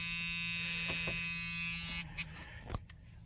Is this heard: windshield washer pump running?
yes